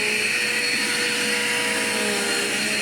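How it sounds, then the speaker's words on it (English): A Dirt Devil Quick Power vacuum cleaner runs steadily up close, its loud motor whine holding a constant pitch with no pauses or talking. "All this is being picked up by this vacuum"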